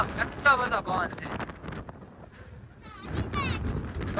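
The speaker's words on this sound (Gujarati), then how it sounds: "કેટલો બધો પવન છે" Strong wind buffets the microphone at the coast in Koliyak, a gusty, rumbling roar that rises and falls while people talk over it.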